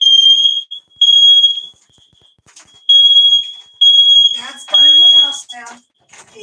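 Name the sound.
smoke alarm going off while cooking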